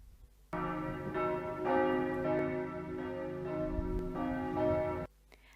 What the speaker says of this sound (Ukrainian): Так звучать великі дзвони у церкві.